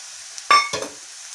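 Coriander, chili and turmeric powders stirred into onions frying in a pan for an egg roast: two quick scraping, sizzling bursts, close and fairly loud, in a short moment with no talk.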